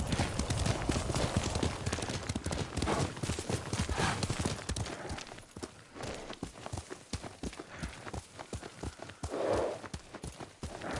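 Steady clip-clop of horse hooves in the video game Ghost of Tsushima, continuous rhythmic footfalls with a dense, full background, no talking.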